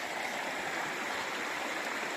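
Cool mountain stream water flows steadily along a hiking trail, a close, even rush of water with no pauses and no voices.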